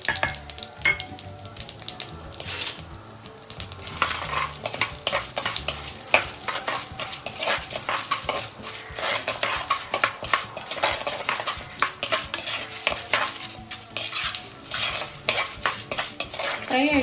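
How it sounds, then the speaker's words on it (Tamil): Chana dal, urad dal, cumin, mustard seeds and asafoetida fry in oil in a kadai, with a steady busy sizzle and frequent scraping stirs throughout, backed by music and no talking. "இது பார்த்திங்கன்னா கடலைப்பருப்பு, உளுத்தம்பருப்பு, சீரகம், கடுகு, பெருங்காயம் எல்லாமே போட்டு வச்சுருக்கேன்"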